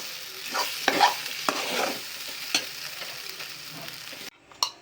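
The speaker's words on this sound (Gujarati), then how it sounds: "આ રીતે હળદરને ઘીની અંદર શેકવાથી સારો એવો ટેસ્ટ આવતો હોય છે।" Fresh turmeric roasting in ghee: a soft continuous sizzle with scraping and stirring noises from a spoon against the pan, a few louder knocks, then a brief drop to near quiet before one last clink.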